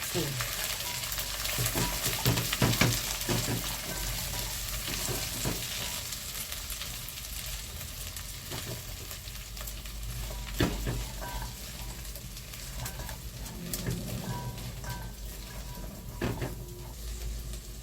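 Green fava beans tossed into browned onions sizzle loudly in the pan, with scraping stirs and utensil clatter over a constant frying hiss and faint background voices.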